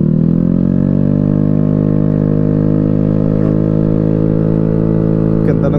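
A Vespa S150 Sprint scooter idles with a loud aftermarket exhaust, a steady, close, heavy engine drone holding for several seconds before a short rattle at the end.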